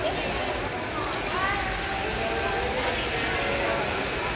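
Steady hiss of rain falling outside at Sky Ranch, a constant wash of noise with faint voices and indoor sounds beneath it.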